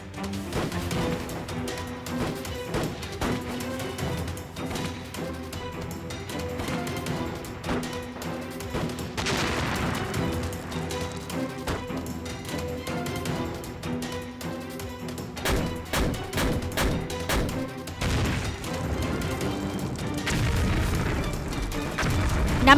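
Heavy cannon fire thunders through a battle in a Chinese war drama set against Japanese forces, with repeated deep booms and crashing bursts over a dense, sustained din of combat.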